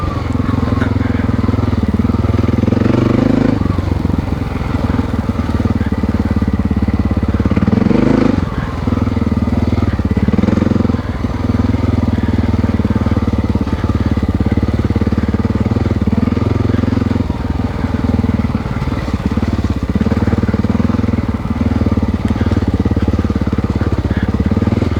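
An old Honda XR600R dirt bike runs in third gear on a trail, its single-cylinder engine droning loud and close with a steady, throbbing note and a few brief surges in throttle.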